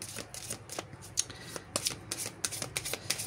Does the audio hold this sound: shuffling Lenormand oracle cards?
yes